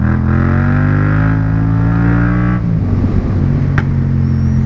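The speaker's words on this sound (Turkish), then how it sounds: "Oğlum yalnız fena kükürüyor bu motor ya." A motorcycle engine roars loudly and steadily up close with a deep, droning, rich tone, then dips into a rougher, gruffer growl partway through, with a brief sharp click near the end.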